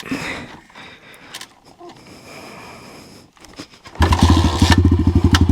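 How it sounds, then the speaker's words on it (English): A Crossfire pit bike (CF 140 or 125) is kicked over, a few scuffing kicks, then the small single-cylinder engine fires and runs loud and close with a rapid, pulsing putter. "This bike can be a little bit tricky to start."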